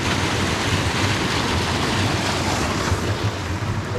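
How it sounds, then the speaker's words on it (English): Water pours from the overflow at Redmires Reservoirs, the start of Wyming Brook, during a drought: a steady, dense, close rushing roar that holds unbroken throughout with no talking. "here we've got a bit of an reservoir overflow. This is the birth of the Wyming Brook."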